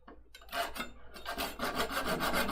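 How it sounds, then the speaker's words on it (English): A small flush cut saw rasps back and forth through a piece of wood, close and fairly loud, its repeated strokes steady and rhythmic after a brief quiet start. "I just have this little flush cut saw, which will be a super easy way to do this"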